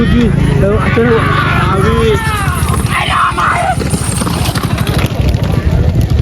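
Hooves clop steadily as bullocks haul a cart at speed, with people talking loudly over the racing and a busy crowd murmur behind.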